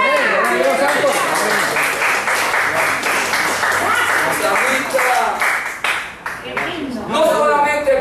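A church congregation in Puerto Rico bursts into loud, sustained applause during a worship service, many hands clapping close by with shouts and voices ringing over the clapping.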